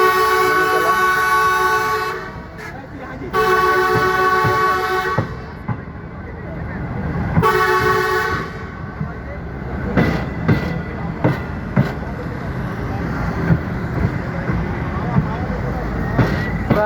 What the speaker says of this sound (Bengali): ভায়াডাক্ট থেকে এখন আমরা আবার ব্যালাস্ট যুক্ত রেল ট্র্যাকে